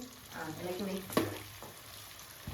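Jackfruit chips frying in hot oil and being stirred, a soft steady sizzle with one sharp scrape of the ladle against the pan. Someone speaks briefly over the frying at the start.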